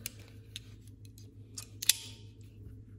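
The scissors of a Leatherman Surge multitool snip several times in quick, uneven succession, crisp metallic cuts close by in an otherwise quiet room with a faint low hum.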